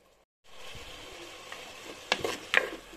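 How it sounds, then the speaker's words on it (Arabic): Onion frying in a pan with gueddid, Moroccan dried meat, giving a steady low sizzle with a few sharper scrapes and clacks of stirring near the end, with no talk. "نخلي البصله تقلى شي شويه مع القديد"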